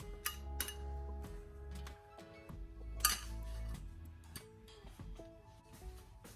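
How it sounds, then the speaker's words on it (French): A blended preparation mixed in a dish for fried kovakkai, with a spoon clinking and scraping against the dish in irregular close taps and rattles, alone. "Et on va venir mélanger tout ça"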